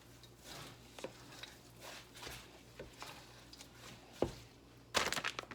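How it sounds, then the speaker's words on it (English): Green bean casserole ingredients being stirred in a dish, a soft spoon scraping and clinking in uneven strokes, close and quiet, with a sharper clack near the end. "Stir this in."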